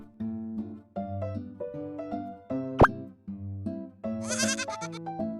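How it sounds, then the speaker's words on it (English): Baby goats nursing on a cow bleat repeatedly at close range in short, wavering calls. A sharp squeak and a wet plop cut in midway. "These baby goats nursing on a mama cow"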